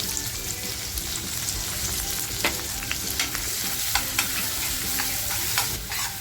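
Onion, cinnamon and bay leaf fry in hot oil for a spicy Maharashtrian chicken curry. A steady, close sizzle runs throughout, broken by occasional scraping clicks as a spoon stirs the pan. No one speaks.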